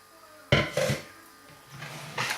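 Flour and powders being mixed into a liquid pancake batter in a bowl, with a few loud scraping, knocking strokes up close, then a quieter pause and another burst of mixing.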